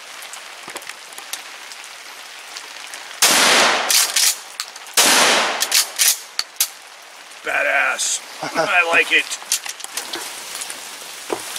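Rain patters steadily at a fall campsite in the Oregon Coast Range, with loud gusty bursts of heavier rain or drops on a surface and people talking over it.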